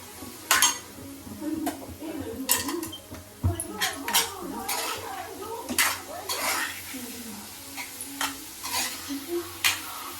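Cowpeas are stirred in a metal pan, a spoon scraping and clinking repeatedly against the vessel over a soft steady sizzle, with faint voices now and then.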